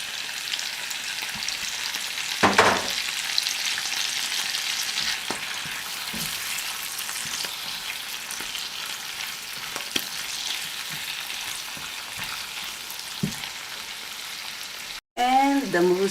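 Shrimp with fish sauce sizzle and crackle in a pan while being stirred, with mushrooms and mussels also in the dish, a steady close frying hiss with occasional scraping knocks.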